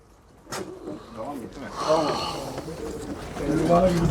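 Pigeons coo repeatedly nearby at a bird auction, soft rolling calls mixed with someone talking over them.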